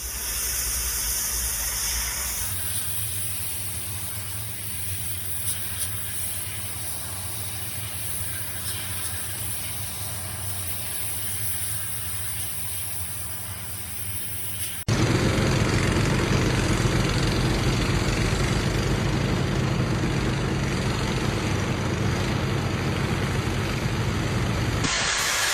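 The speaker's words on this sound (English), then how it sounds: "Hot steam lifts algae and grime from the stone surface, revealing a clean, restored wall without damaging the masonry." A hot steam cleaner lifting algae and grime from a stone masonry wall gives a continuous loud hiss with an engine-like hum beneath. Partway through it shifts to a louder, brighter blast that holds steady to the end.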